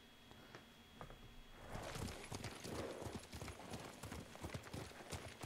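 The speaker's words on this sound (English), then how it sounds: "I'm thoroughly surprised he actually brought enough horses." Horse hooves clopping in the Ghost of Tsushima video game, a steady rhythmic gallop that grows louder partway through, close and continuous with no speech.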